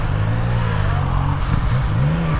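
A Yamaha MT-09 motorcycle accelerating down a narrow street, its engine note loud and close, rising and falling through revs with steady road rumble and wind.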